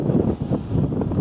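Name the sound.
strong wind blowing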